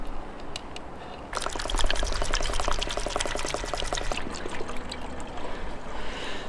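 Fluid poured through a full-sized funnel into an Alfa Romeo 4C Spider, a steady close gurgling pour that starts abruptly, runs for about three seconds, then eases into a softer trickle.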